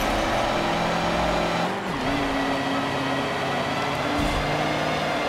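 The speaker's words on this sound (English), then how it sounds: "So we're all racing in these trucks, right?" Trucks roar around a track in the Forza Motorsport 7 racing game, a loud, steady engine drone with pitch shifts between gears and a brief dip as revs fall and climb again.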